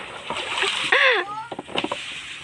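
Water splashes and sloshes in short bursts as food is rinsed and washed by hand in a rural Bicol home in the Philippines, with someone talking over the splashing.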